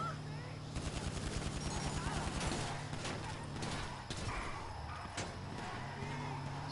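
Rapid bursts of gunfire in the video game GTA 5 during a car chase, dense repeated shots through the first half, then scattered single cracks over steady engine and game noise.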